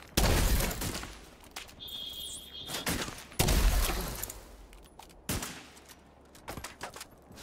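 Video-game gunfire aimed at a shielded enemy, with loud, dense bursts of shots, impacts and ringing, plus a brief whistling tone between the volleys.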